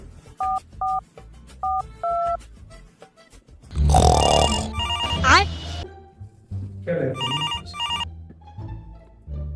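Telephone keypad tones beeping in short bursts, then a loud burst of noise and further electronic ringing and dialing tones, with a faint voice in the background.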